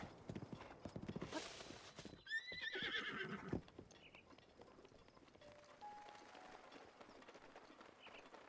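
A horse in Zelda: Breath of the Wild trots with quick clip-clop hoofbeats, then lets out a clear, fairly close neigh and whinny before everything settles into a quiet outdoor hush with faint distant chirps.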